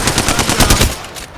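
Rapid automatic gunfire in Apex Legends, a loud burst of closely spaced shots for about a second that then tapers off.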